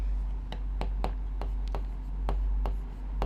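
A pen or chalk strokes out a mathematics equation by hand, a string of short sharp scratching ticks over a low steady hum.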